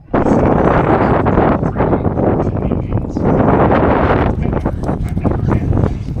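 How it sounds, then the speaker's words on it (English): Strong wind gusting outdoors in the desert, a loud, continuous broadband roar with surging gusts and buffeting against the microphone throughout. "it's windy out."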